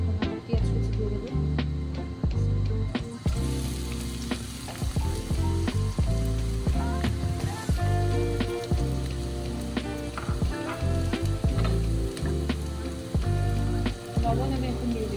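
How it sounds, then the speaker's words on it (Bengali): Chopped onions hit hot oil and fry with a loud, dense crackling sizzle that continues steadily, close, alongside rhythmic stirring knocks. "তেলটা আমার গরম হয়ে এসেছে, এখন আমি পেঁয়াজ কুচি দিয়ে দেবো।"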